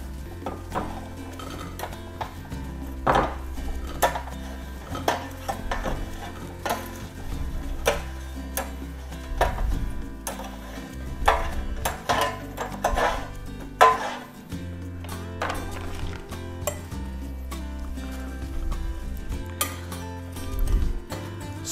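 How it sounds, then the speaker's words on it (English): Tongs lifting garlic butter potatoes into a serving tray, a long run of close metallic clicks and taps at uneven intervals, with no talking. "So I'm gonna get some tongs and we're gonna put them into the serving tray."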